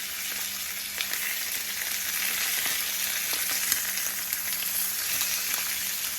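Salmon fillet for a sweet chili recipe sizzles steadily in a hot pan, with a dense, even crackle of frying oil and occasional sharper pops, close and continuous with no talking.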